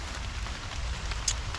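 Rain falls steadily in Sherwood Forest as someone sits sheltered on a log under a tree, a soft, even patter and hiss with no break and one faint brighter tick near the end.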